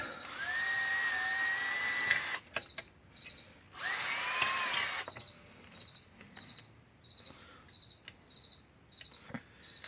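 A tap drill boring into a RocketBox HD500MOS case during a cooling mod: two loud sustained whining bursts of drilling, each about two seconds, followed by quieter scraping and handling sounds.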